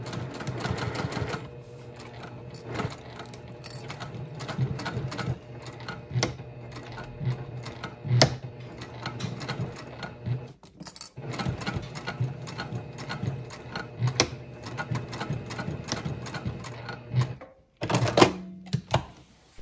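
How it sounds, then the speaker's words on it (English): A sewing machine stitches the final seams of a fabric bag, running in steady rhythmic bursts with brief pauses and a short stop near the end, close and clear. "Now we've just stitched our last seams on this bag."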